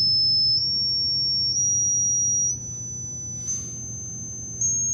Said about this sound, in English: the frequency that you're hearing is clearly increasing. And that's the effect of aliasing